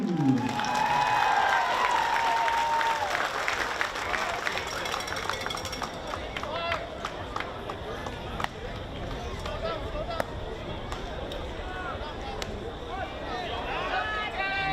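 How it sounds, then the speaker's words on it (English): A stadium crowd at a baseball game applauds and cheers for a player being introduced, a broad wash of clapping under a public-address voice that carries on throughout. "How about a round of applause for Joshua Matthew?"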